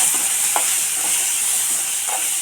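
Grated coconut stirred in a frying pan with cumin and fenugreek for fish kuzhambu, a steady close sizzle with a few soft scraping stirs.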